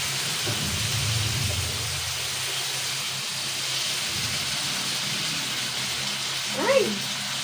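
Steady rain falling as a continuous broad hiss throughout, with a faint low rumble early on and a brief voice near the end.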